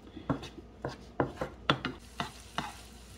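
Shrimp being stirred in a hot sizzling pan for a stuffed potato dish, with repeated scraping strokes of the utensil over a soft sizzle, close and fairly loud, with no talking.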